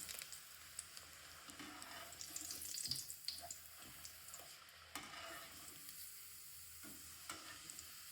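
Potato chips fry in hot oil with a quiet, steady crackling sizzle and occasional stirring clinks, faint and close, with no voices.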